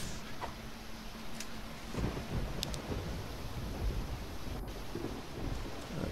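A thunderstorm rages in the video game Risen, with dense rain and wind roaring continuously, low rumbles of thunder swelling underneath and a few sharp crackles here and there.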